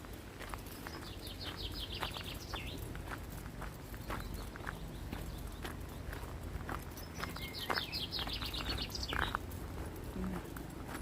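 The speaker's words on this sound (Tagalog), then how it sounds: "Kaya maririnig mo lang yung mga huni nila." Birds in a dark forest trill in two bursts of rapid high chirps, heard over the close crunch and pat of footsteps along the walk.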